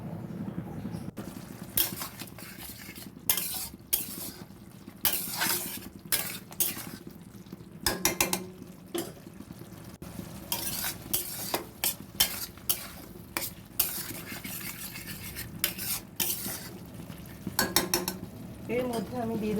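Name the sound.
stir-frying banana flower (mocha) in a pan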